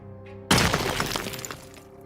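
A sudden loud crash as glass, metal and wood shatter from something falling through a roof, bursting in at once and then trailing off into scattered debris and tinkling fragments.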